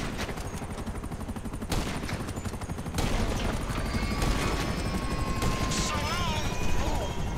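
A helicopter in Grand Theft Auto 5 thrums with rapid rotor chopping beneath bursts of gunfire and game effects, staying loud and continuous throughout while a voice talks briefly.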